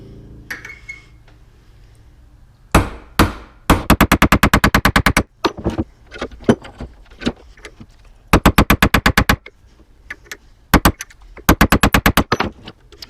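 A hammer beats on a BMW E46 xi front axle carrier in quick, evenly spaced metallic volleys, each run of rapid clanging strikes separated by a few isolated knocks, loud and close.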